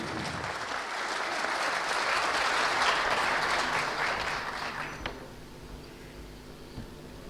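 An audience at the opening of the 5th Issyk-Kul Forum applauds to welcome a speaker to the podium. The clapping swells to a peak, then fades by about five seconds, leaving quiet room tone.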